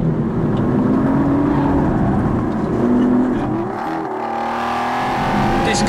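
An Aston Martin V12 Vantage S rumbles and revs close by, a deep steady engine drone with a rising whir, then a brief dip and a pickup in pitch as the car accelerates away.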